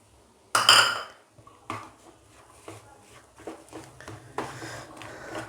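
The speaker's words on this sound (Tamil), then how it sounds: "நல்லா மிக்ஸ் பண்ணிக்கோங்க. நல்லா மேஷ் பண்ணி விட்டுக்கோங்க." Veg cutlet masala with coriander is mixed and mashed in a vessel, opening with a loud metallic clang and followed by scattered utensil scrapes and soft taps.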